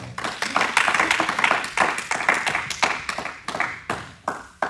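A church congregation claps to praise the Lord, a dense burst of many hands sounding together in a steady, lively rhythm that carries on throughout, close and full.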